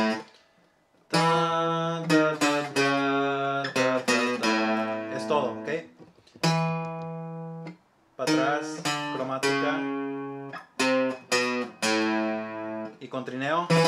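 Quick bursts of plucked requinto guitar ornament notes ring out in short flurries separated by brief pauses, bright and close.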